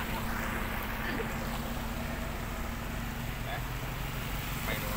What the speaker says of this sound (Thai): ดูบรรยากาศรถผ่านกระแสน้ำมาครับ